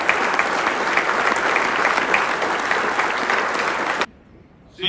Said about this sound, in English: I think that Roberts family needs a hell of a round of applause for letting us use